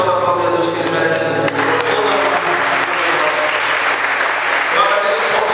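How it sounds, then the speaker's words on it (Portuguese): Church congregation applauding loudly at a Father's Day service, sustained dense clapping from a crowd with voices mixed in beneath. "Você pode aplaudir a Deus que Ele merece."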